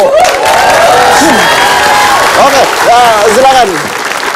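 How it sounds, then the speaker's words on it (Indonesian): Studio audience applause on an Indonesian TV talk show, a steady broadband wash of clapping and some cheering running under the hosts' voices throughout. "Ya tepuk tangan dulu dong"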